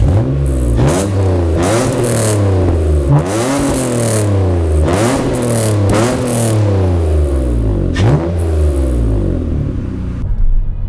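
A 2006 Mitsubishi car fitted with a cheap eBay cat-back exhaust revs up again and again, its raspy engine note climbing and falling in loud, close sweeps over a steady idle rumble.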